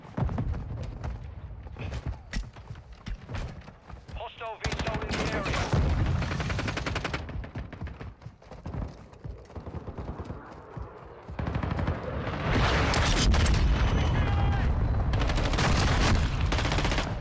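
Bursts of shotgun fire and other gunfire ring out in the video game Warzone 2, dense and loud, coming in clustered volleys with short lulls and then a sustained barrage near the end, with a voice briefly talking in between.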